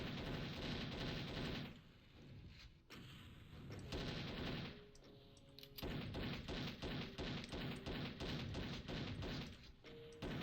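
Enemy gunfire in a Doom WAD game, dense bursts of rapid shots repeating through most of the stretch with a brief lull partway, fairly loud and alone.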